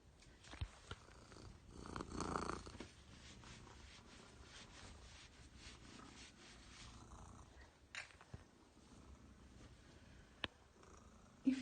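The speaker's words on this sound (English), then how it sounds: "Oh, that's a serious purr." A cat purring after a bath, a soft, steady low rumble close by, with a few faint clicks and brief rustles and no talking.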